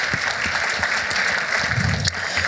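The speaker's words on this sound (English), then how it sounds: "A round of applause for Haney." A conference audience at a Toronto crossmedia event claps for a speaker, a steady mid-level wash of applause that continues evenly, with a few sharper claps near the end.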